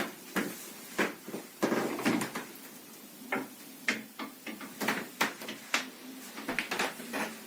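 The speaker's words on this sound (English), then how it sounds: "Those hangers are shaking because he just ragged that door open." A door is yanked open and the hangers inside shake, making a string of irregular clattering knocks and rattles. They are fairly close and moderately loud, with no voices.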